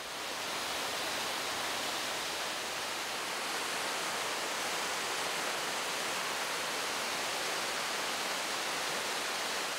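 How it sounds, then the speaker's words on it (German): A waterfall in Salzburger Land roars as a steady, dense rush of falling water, loud and unbroken for the whole stretch, with no voices. "Für heute haben sie einen Wasserfall im Salzburger Land ausgesucht."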